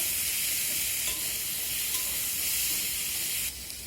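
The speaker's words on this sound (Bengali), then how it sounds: "হলুদের গুঁড়োটা দেওয়ার পর আবারও আমি নেড়েচেড়ে সব কিছু ভেজে নেব।" Potatoes and tomatoes frying in a pan with a pinch of turmeric for a raw papaya and moong dal dish, giving a constant bright hissing sizzle with faint stirring and no speech, dropping slightly near the end.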